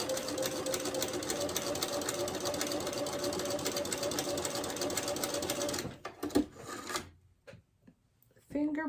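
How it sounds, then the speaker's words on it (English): Sewing machine stitching a quilt block seam with a quarter-inch seam allowance, a fast steady mechanical whir running close and continuous for about six seconds before stopping, followed by faint handling noises. "Stitching away, 1/4 inch seam allowance."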